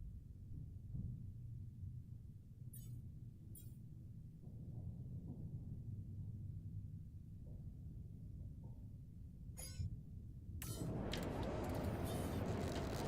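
A thunderstorm in the game The Alters rumbles low and steady, with brief crackles, then swells into a louder roar of rain and wind toward the end.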